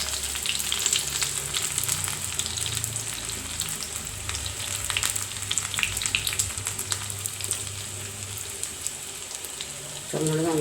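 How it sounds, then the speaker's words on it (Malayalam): Shallots frying in hot oil with mustard seeds, a steady close sizzle with fine crackling spatter and occasional stirring, continuing evenly before a brief louder burst at the end. "നമുക്ക് ചുമന്നുള്ളി ഇട്ട് കൊടുക്കാം"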